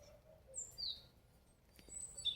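A European robin sings thin, high, wavering phrases at a distance, faint over quiet garden background.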